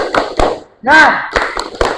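A classroom of students performs a rhythmic spirit clap, sharp separate claps in a patterned beat with a chanted voice in the middle, close and loud.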